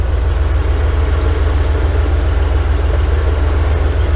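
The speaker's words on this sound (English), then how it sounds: "Love that engine, that 351" A 1988 Coachman Class B RV with a 351 cubic-inch 5.8-litre V8 idles steadily nearby, a deep, even low rumble with a regular pulsing throb and no voices.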